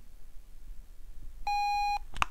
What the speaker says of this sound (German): bekomme diesen Piepton